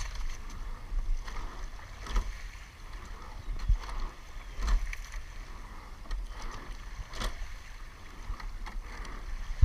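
An eight-person rowing boat pulls through water, with rhythmic oar strokes every second or so splashing and thumping over a continuous rush of water and hull noise, no voices heard.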